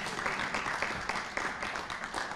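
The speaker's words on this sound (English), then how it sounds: "Please, a round of applause for a great friend," An audience at a gathering attended by members of the Knesset claps in steady, dense, distant-sounding applause that carries on throughout.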